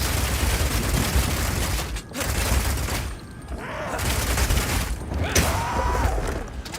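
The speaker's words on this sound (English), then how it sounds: "Being able to run while shooting with Rapid Shot is also great for when you want to perform a fighting retreat." Rapid Shot gunfire from the video game Path of Exile 2: dense, sustained volleys of shots with mechanical clatter and a couple of brief lulls, loud and continuous throughout.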